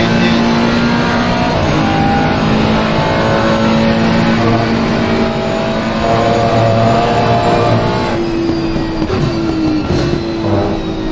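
A Ferrari 488 GT3 race car engine heard onboard at Misano during a GT3 championship round, loud and steady with a high, sustained whine that holds at one pitch for a while, then shifts.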